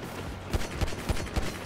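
Pistol gunshots in GTA 5 Online sound as a rapid series of four or five sharp, close shots in a steady rhythm over busy game noise.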